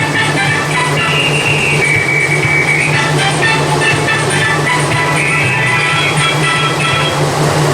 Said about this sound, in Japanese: 列車が来ました。